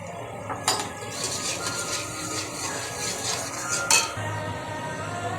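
Spoon scraping and clinking against a pan while stirring masala for a Marathi-style mutton curry, irregular metallic taps and scrapes with a faint background sizzle, close and fairly soft.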